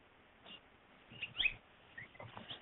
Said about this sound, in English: now it's a different bird chirping. Yes, house finch.